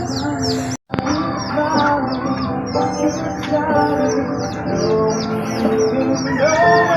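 Chickens cluck and chirp continuously close by in hot weather, a dense busy flock with overlapping calls and a brief dropout near the start.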